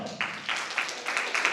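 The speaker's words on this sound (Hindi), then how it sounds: "वेरी गुड, जोरदार तालियां दो" An audience claps in short rhythmic bursts during a MidBrain Activation session in Raipur, a brisk, fairly close group of hands repeating in an even beat.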